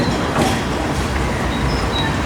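A passing train at a seaside amusement park rumbles steadily nearby, a dense rolling clatter of wheels with no break across the short stretch.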